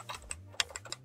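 A short burst of soft, thocky keystrokes on a Cooler Master keyboard with Topre switches, several distinct presses close to the listener, one louder than the rest.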